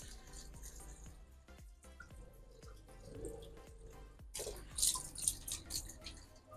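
Light watering of potted orchids, water trickling and dripping through bark medium, with irregular soft drips and a brief louder splashing pour near the end.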